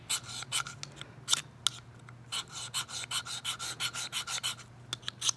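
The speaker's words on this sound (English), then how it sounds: "Scrape the black coating off." Black coating being scraped off an item on an overnight camping trip, a series of short, sharp rasping strokes repeated in a fairly steady rhythm, close and alone over a faint low hum.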